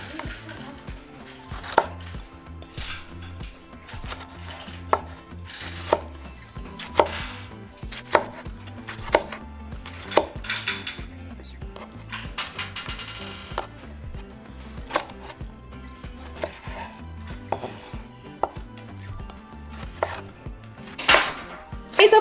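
A tomato is chopped with a knife on a board, a long run of rapid, sharp knocks in an irregular rhythm, close and crisp, with no talking.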